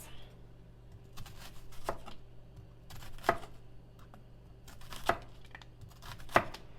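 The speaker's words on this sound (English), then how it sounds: "Now we're just going to slice up our onions." A knife slicing onions on a cutting board, giving a few sharp, spaced cuts against a quiet kitchen background, each cut distinct and fairly close.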